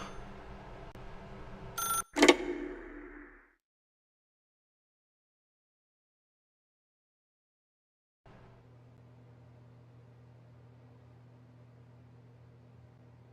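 In the video game The Stanley Parable, a telephone gives a short, sharp ring burst. Silence follows, then a steady low electrical hum comes in, with no talking.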